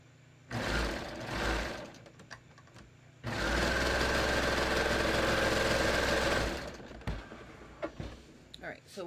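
A sewing machine stitches a knit tee fabric into a circle for a mock turtleneck, running in a short burst and then a longer steady whir of a few seconds, followed by light handling clicks.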